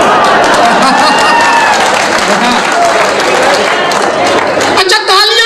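An audience claps at a Hindi satirical comedy show: dense, continuous applause fills the room with a voice talking over it, then thins out near the end.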